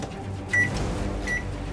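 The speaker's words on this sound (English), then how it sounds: "Like you can throw it in the microwave and warm it up?" A microwave oven heating a cooked steak gives two short, clear electronic beeps about a second apart over a low hum, with a faint click near the first beep.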